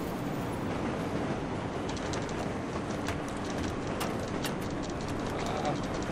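In Battlefield 3, a train rolls past as a steady, dense rumble with faint clacking, heard under people talking throughout.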